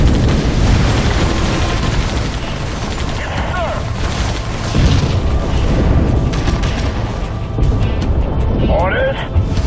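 Units in the Halo Wars strategy game fire continuously, with dense rolling booms, gunfire bursts and explosions layered loud and close throughout, along with brief unit voice responses.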